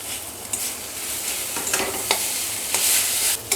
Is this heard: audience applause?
no